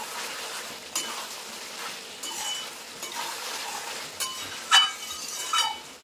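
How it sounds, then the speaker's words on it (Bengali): Village-style chicken kosha with fried spices is stirred in a pan as the thick gravy releases its oil. A continuous close sizzle carries scraping strokes and a few light clinks of the spoon against the pan. "তার একটু কষিয়ে নেবো ওই মাংসটা।"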